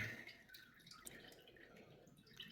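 Water drips and trickles onto a rough Coober Pedy opal being prepared for cutting, a faint, close, continuous wet patter at low volume.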